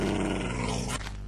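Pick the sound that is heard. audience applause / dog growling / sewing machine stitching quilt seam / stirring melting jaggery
dog growling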